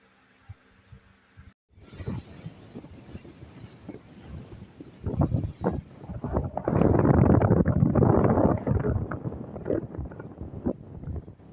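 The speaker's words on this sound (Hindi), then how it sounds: "बहुत ज़्यादा हवा चली हुई है" Strong wind buffeting the microphone at a seashore, a loud continuous roar with gusting surges that build and peak midway, sustained throughout.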